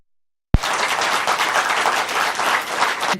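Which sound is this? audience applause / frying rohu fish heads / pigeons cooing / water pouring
audience applause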